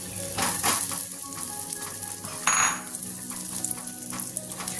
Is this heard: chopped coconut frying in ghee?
yes